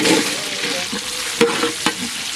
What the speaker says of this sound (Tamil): வெங்காயம் வந்து நல்லா சவுண்ட் அளவுக்கு வதக்கிக்கலாம்